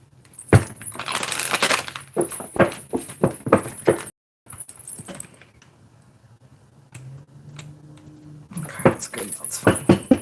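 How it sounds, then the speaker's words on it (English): A deck of tarot cards is shuffled up close in quick bursts of riffling and soft slapping taps, with pauses and a quiet stretch between rounds. "Shuffle."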